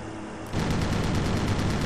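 Aircraft guns in a flight combat game set in a WWII dogfight against a Focke-Wulf 190, starting after a brief quiet lead-in as a loud, continuous rattling burst that keeps going to the end.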